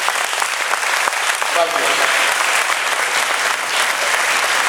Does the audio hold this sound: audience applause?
yes